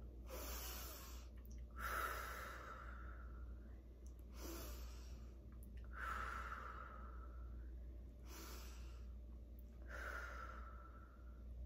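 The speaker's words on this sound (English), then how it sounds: "Let's take 3 deep breaths together." Three slow, deep breaths in and out are taken together by a group, each a soft, airy rush spaced a few seconds apart over a low steady background hum.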